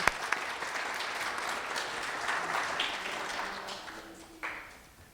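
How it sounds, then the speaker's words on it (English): Audience applause for contestants at a youth speech competition finals, a full, even wash of clapping that slowly tapers off, heard in a hall with a few sharper claps standing out. "So maybe a big round of applause again for all our wonderful contestants."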